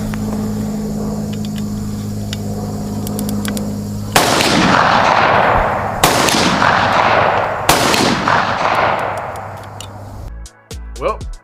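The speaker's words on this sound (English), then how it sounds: "I know you would love to see it being shot. It's great to talk about these things, but I have footage of me shooting it." Three loud booming shots from a big-bore BHA 500 Automax AR-10 rifle, spaced about two seconds apart, each with a long rolling echo over steady background hum.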